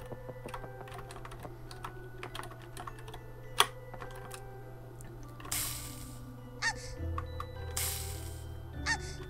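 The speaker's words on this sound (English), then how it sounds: "I keep clicking on this." Mouse clicks while playing Pocket Mirror, a string of light, close clicks scattered irregularly over faint background hum and a few brief louder rustles.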